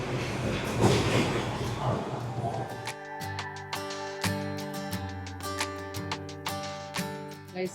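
Inside a moving metro train in Osaka, Japan, a low rumbling ride noise gives way to a steady pattern of tonal chimes and rhythmic clicks, with people talking nearby.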